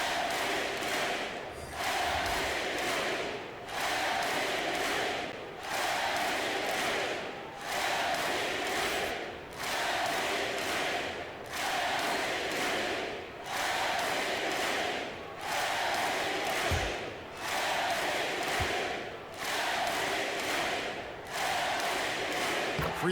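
A large crowd at an NBA basketball game between the Lakers and the Raptors cheers loudly, its roar swelling and dipping in steady rhythmic waves like chanting throughout.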